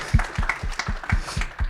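Steady, regular clapping from a small group at a conference, about seven claps in quick rhythm, close and fairly loud.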